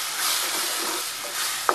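Yogurt being stirred into chicken liver masala spices in a pan gives a loud, even frying hiss with a single clear spoon knock near the end.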